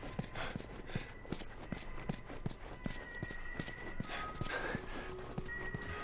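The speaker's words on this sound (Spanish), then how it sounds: "Nos sigue a caballo, qué mona." Horse hooves in The Last of Us game clip-clop in a steady, evenly spaced walking rhythm, moderately close, over a low ambient hum with no speech.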